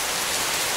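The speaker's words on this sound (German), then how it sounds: "wolkenbruchartiger Regen." Heavy cloudburst rain pours down in the High Tatras, a loud, dense, unbroken hiss of water drumming on surfaces up close.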